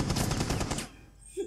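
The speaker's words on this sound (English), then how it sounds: "you ain't about to shoot me through the motherfucking wood" A rapid burst of automatic gunfire shooting through wood in Rainbow Six Siege, loud and close for under a second, then cutting to near quiet with a faint sound at the end.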